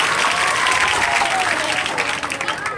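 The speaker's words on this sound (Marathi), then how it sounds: "फक्त लाडक्या बहिणी टाळ्या वाजवतील जोरदार" Women in a lecture audience clap loudly together, a dense, sustained burst of applause filling the hall and trailing off slightly at the end.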